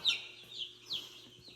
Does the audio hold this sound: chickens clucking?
yes